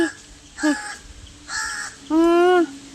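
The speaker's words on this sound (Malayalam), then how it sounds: "കാക്ക ഉണ്ട് ഇവിടെ" A crow caws close by in several harsh calls, each short and separated by brief pauses, with the last one longer and louder.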